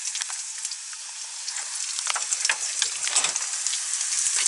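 Potato fritters sizzle and crackle steadily in hot oil in a van kitchen, a close, bright frying hiss that grows a little louder toward the end, with no talking.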